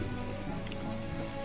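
Rain in the video game My Time at Portia falls as a steady, dense patter on surfaces, a brief unbroken hiss of drops.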